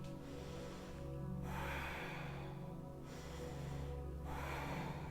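A person demonstrates belly breathing by inflating the stomach. Close, noisy breaths through the nose and mouth come in about three strong airy bursts separated by quieter pauses, with no talking.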